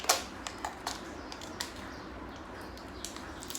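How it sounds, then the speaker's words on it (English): The seal on a jar of badam mix powder drink is torn open, beginning with a sharp rip followed by a few light crackles and taps of the foil, close and fairly quiet. "We'll have to tear it open. I'll quickly just tear it open."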